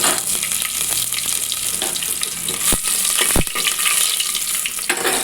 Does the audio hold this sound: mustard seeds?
yes